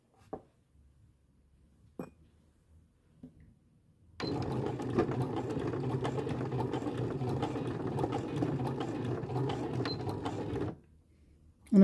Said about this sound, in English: So I've walked it through a couple of stitches. I'm just going to backstitch.